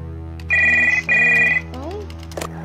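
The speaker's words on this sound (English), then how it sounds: "Behind the door, phone starts ringing." An old-style telephone rings twice behind a door in the horror video game Stories Untold, two loud electronic trills with a steady hum underneath and faint tones after.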